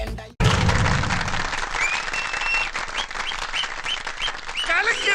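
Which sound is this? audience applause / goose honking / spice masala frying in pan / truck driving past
audience applause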